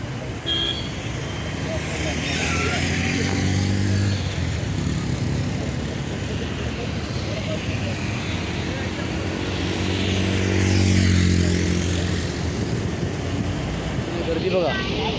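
Jammed road traffic of cars and motorcycles at night, heading out toward Konkan villages: a steady, dense engine rumble with droning motor tones that swell and fade as vehicles pass close by, and voices murmur faintly underneath.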